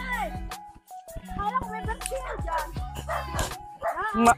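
A dog barks several times in short bursts nearby, mixed with excited voices of children and adults talking over it.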